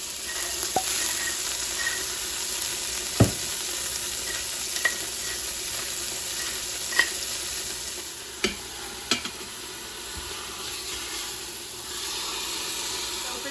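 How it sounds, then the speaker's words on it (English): Two pork chops browning in a frying pan, a continuous hissing sizzle broken by occasional sharp clicks and taps of a utensil, close and steady throughout. "We're gonna go ahead and get them brown about 5 minutes on each side."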